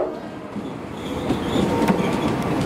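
A KRL electric commuter train moves through Bekasi station with a steady, close rumble, faint wheel clatter and a light metallic squeal building slightly toward the end.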